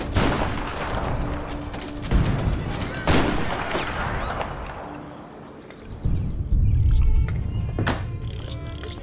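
Repeated heavy booms of cannon fire in Age of Empires III, several blasts a couple of seconds apart over a rumbling battle background.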